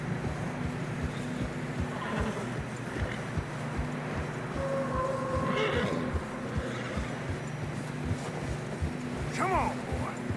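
Horses snort and whinny with steady hoofbeats plodding through fresh snow in Red Dead Redemption 2, a rhythmic clip-clop under wind, while riders talk.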